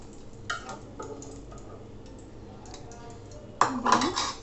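Metal spatula clinks and scrapes against a pan as fried pointed gourd slices are lifted out, a few light taps early on and a louder cluster of clatter near the end, close by.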